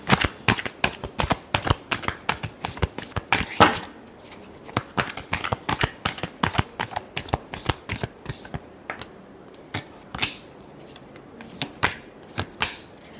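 Tarot cards shuffled by hand up close, a fast run of crisp riffling flutters and sharp slaps in irregular bursts with brief pauses between them.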